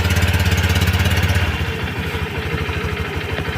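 A Honda Click scooter engine starts and settles into a steady, close, loud idle with a rhythmic low chugging and light mechanical clatter; the pulse shifts slightly after the first second and a half.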